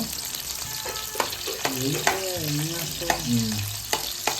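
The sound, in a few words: food frying in a pan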